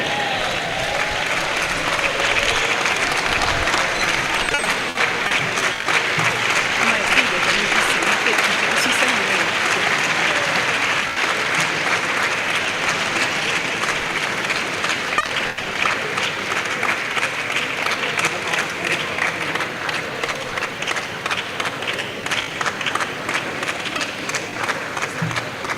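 Sustained audience applause in a lecture hall after a closing prayer, a dense steady wall of clapping holding at full strength for nearly half a minute, with a few voices mixed in.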